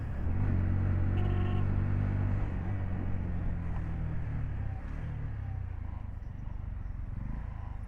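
Busy road traffic in Goa near Aguada Fort, with a steady dense rumble of engines and passing vehicles, louder at first and easing slightly partway through, no talk.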